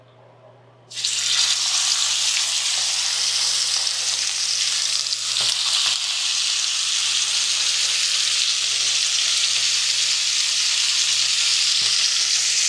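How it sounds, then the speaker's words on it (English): A steak searing in a hot pan gives a loud, steady sizzle that bursts in about a second in and holds unbroken, close by, with no talking. "So I'm gonna be cooking the steak."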